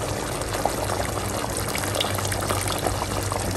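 Dissolved tamarind water poured into a simmering moong dal and drumstick gravy, a steady close liquid wash with bubbling and faint trickles throughout, no voices.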